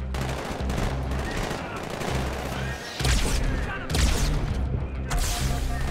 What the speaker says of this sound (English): Where's that SMG? The SMG is actually really good at taking out the